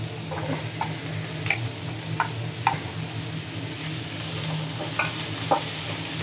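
Potato pieces go into a Kerala-style green peas curry with coconut milk, frying with a faint low sizzle in the pan while a spoon stirs, giving scattered light scraping clicks.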